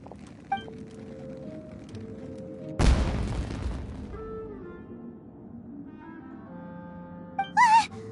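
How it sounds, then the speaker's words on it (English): A single loud fireworks explosion in Genshin Impact bursts out partway through over a steady game music backdrop, followed by a fading crackle, with a brief bright chime near the end. "Was that an explosion? It sounded like fireworks."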